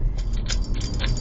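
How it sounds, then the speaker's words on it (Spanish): A car keychain with keys and a tiny bell jingles in rhythmic shakes over a steady low rumble of a running car engine. "El ruido del llavero de allá del coche que tiene un cascabelito"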